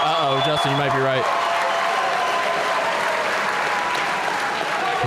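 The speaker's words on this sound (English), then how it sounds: "can we get a round of applause?" Crowd at a Synergy FC fight applauds loudly and steadily after an amateur MMA bout, with dense clapping and cheering throughout; a voice speaks briefly over the start.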